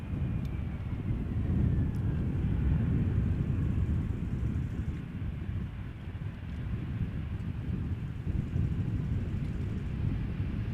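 Airliner arriving at Amsterdam Schiphol Airport, a steady low engine roar with wind rumble that holds for several seconds and then eases slightly, heard from a distance outdoors.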